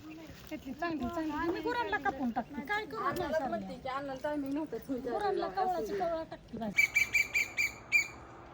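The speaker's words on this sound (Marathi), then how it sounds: "लिंबाच्या झाडावरती कोकिळा वरटतात त्या" An Asian koel calls from a neem tree in a rural village yard, its repeated bright notes ringing out over the last two seconds after steady conversation between several people.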